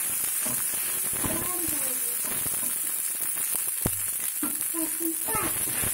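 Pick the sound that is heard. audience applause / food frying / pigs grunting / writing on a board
food frying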